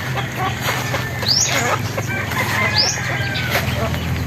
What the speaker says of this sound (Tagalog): Mga bagong pisang sisiw.